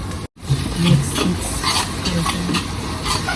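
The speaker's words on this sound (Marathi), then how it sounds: "आपण त्याला एकदम फ्राय करून घ्यायचं म्हणजे बांधून घ्यायचं" Ginger-garlic paste frying with onions in a pan for an Agri-Koli style dal dish, stirred steadily, with a loud continuous sizzle and scraping strokes of a spoon close by, plus a brief dropout near the start.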